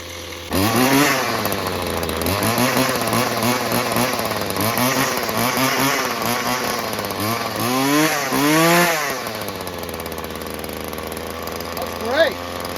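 A 40-year-old Weedeater FL25 two-stroke string trimmer engine, freshly fitted with a replacement carburetor, idles steadily up close with a few brief revs mid-run and at the end, while someone talks over it.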